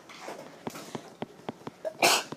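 A sharp, loud sneeze bursts out near the end, interrupting an algebra lesson and following a run of soft, evenly spaced clicks and breaths.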